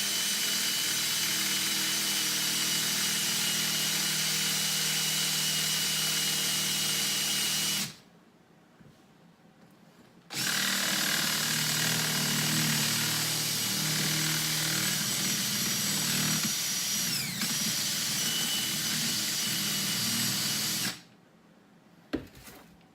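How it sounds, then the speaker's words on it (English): Power drill boring a hole through a plastic GoPro case in a home garage, a loud steady high whine running for long stretches, cutting out twice briefly before restarting, no talking. "I'm gonna just basically put the drill. I'm gonna start pushing it down"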